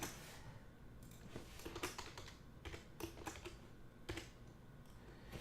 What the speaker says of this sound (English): Sorry, I'm very bad at typing.